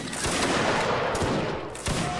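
Musket volley fire from a Mount & Blade Napoleonic Wars line battle: dense overlapping gunshots roll together into a loud continuous fusillade, with a few sharper cracks standing out near the start and end.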